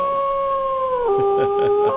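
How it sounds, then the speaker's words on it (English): Recorded wolf howls play back, a long sustained howl sliding down in pitch before breaking into shorter wavering yips and howls, loud and clear with nothing else over them. "Let me get this man some wolf howls"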